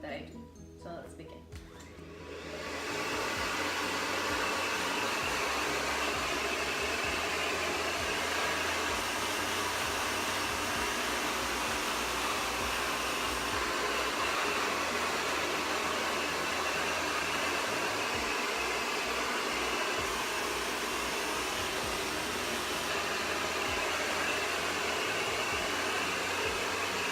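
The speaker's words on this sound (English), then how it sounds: "So I'm going to start by blow drying the roots" A hair dryer starts up after a brief quiet moment and then runs as a loud, steady whooshing roar while it blow-dries the roots of someone's hair, continuous to the end.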